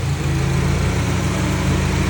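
A 2007 Honda City automatic sits idling with a steady, even low engine hum and faint rhythmic pulsing, close and loud for a couple of seconds with no talking.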